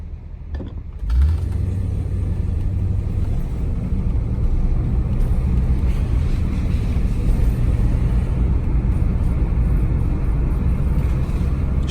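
A Rolls-Royce Silver Shadow pulls away from a stop at a traffic light under moderate, half-pedal throttle: after a brief quiet moment the engine rises into a loud, steady, deep rumble that holds throughout.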